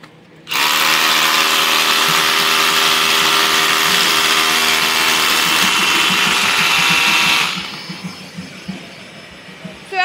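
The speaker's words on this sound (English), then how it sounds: "So now we'll just show you the drilling performance and wrap up that productivity and safety story." A Milwaukee drill bores into concrete with dust extraction running, a loud steady whine and grinding roar lasting about seven seconds before cutting off, followed by faint clatter and rattling.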